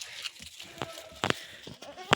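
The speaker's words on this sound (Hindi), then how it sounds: "नीचे बुझान में साइड में देखो वहाँ जा रहे हैं बकरियाँ।" Goats being herded on a hillside in Uttarakhand let out several scattered bleats, some sharp and close, with quiet outdoor background between the calls.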